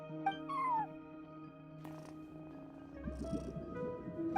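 A cat meows at a front desk in a video game, one short rising call near the start over steady game music and ambience.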